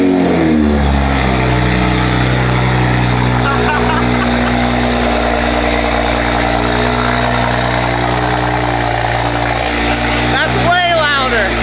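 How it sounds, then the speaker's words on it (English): Toyota Supra with a fully straight-piped Valvetronic exhaust and Bimmer Trend downpipe, a loud deep engine drone holding and rising through revs close to the car, with a brief higher whine near the end. "Let's see how this car sounds fully straight piped with a Bimmer Trend downpipe and a Valvetronic"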